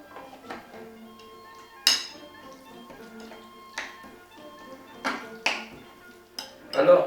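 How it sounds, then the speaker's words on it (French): A spoon works through terrine ingredients with fresh parsley in a bowl, giving scattered clinks and scraping taps at irregular intervals, fairly close and clear against quiet. "Nous mélangeons bien le tout."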